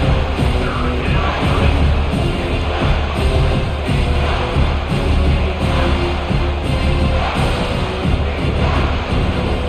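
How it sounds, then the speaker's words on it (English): A stadium crowd in EA College Football 26 roars without break through a big third-down play in a USF at Miami game, a loud, dense wall of cheering and yelling that swells and pulses. "if you didn't know this was a big play, the crowd is telling you"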